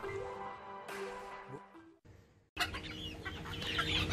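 Chickens in a coop cluck and squawk close by, with overlapping bird calls, a short quiet break near the middle and a louder burst of clucking afterward, and no talk.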